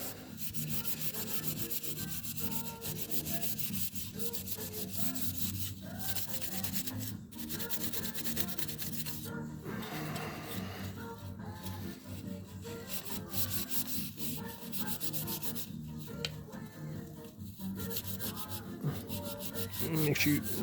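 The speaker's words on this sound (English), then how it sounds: "it's one of these scrubbers, green scrubbers, anywhere, and just can get in there and get all the loose stuff out of there" A green scrubber rubs over the roof rail molding of a 1968 Camaro in quick, repeated back-and-forth strokes, a close, raspy scouring that keeps going throughout.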